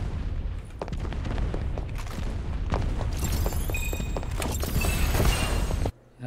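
Rapid bursts of gunfire in the battle-royale video game Farlight 84, loud and dense with booming shots layered over game noise, continuing almost without pause before cutting off sharply near the end.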